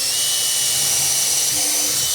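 Power drill boring a pilot hole sized for 1 1/4 inch Kreg screws during a drawer installation, a continuous high whine held steady through the short stretch with no talk.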